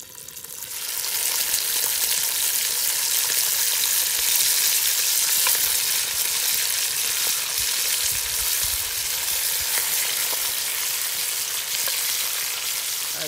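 Kudu meat browning in a cast-iron potjie over a wood fire, a steady loud sizzle and crackle of frying that holds evenly throughout with no voices.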